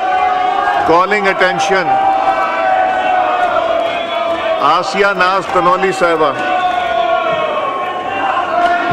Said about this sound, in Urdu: اس دوران اپوزیشن بینچز کی جانب سے شدید نعرے بازی کی گئی